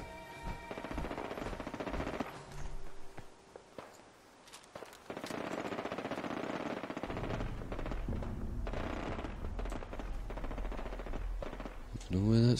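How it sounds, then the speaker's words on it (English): Automatic gunfire in the video game Fallout 4, rattling bursts in a sentry-bot fight heard at moderate distance under continuous game sound and ambience, with louder blasts near the end. "Oh, gunfire."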